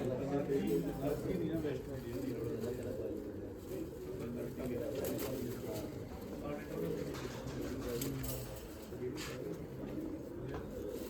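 Soft, low cooing from Gummti pigeons rolls on steadily beneath continuous nearby talk.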